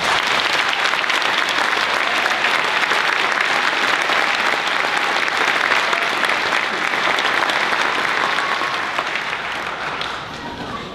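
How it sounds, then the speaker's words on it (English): Sustained, loud applause from the audience at a Marine Corps University academic awards ceremony for graduates and staff, a dense even roar of clapping that gradually thins in the last seconds. "please, one more round of applause, both for our graduates, as well as our distinguished staff"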